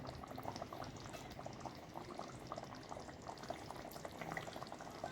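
A pot of seer fish curry simmers steadily, a dense continuous bubbling and burbling close by with no voices over it.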